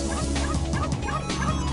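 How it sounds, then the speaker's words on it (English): In the game Ragnarok, a pack of baby desert wolves gives off rapid, repeated high yelps that sound almost like gobbling, loud and crowded over a steady in-game music bed. "Hearing all those baby desert wolves barking,"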